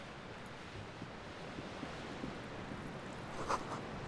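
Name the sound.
waves crashing in the darkness, video game Disco Elysium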